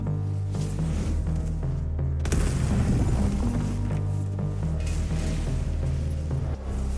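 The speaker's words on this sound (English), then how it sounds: "a guy proceeds to shot a whole laser beam at me from across the map" Laser beam attack fired across the map in a Roblox anime PvP game, a loud booming blast that surges after a brief lull and rumbles on with crackling, crashing texture.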